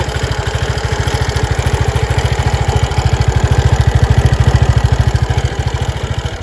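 An Aprilia SXR 160 BS6 scooter engine running on its stand, a loud, close, rapid and even putter that holds steady throughout, with no talk over it.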